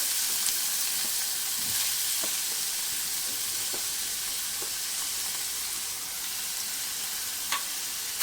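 Two medium onions fry in two spoonfuls of hot oil in a kadai, giving a dense, even sizzling hiss throughout with faint scattered ticks and pops, close and steady with no talking.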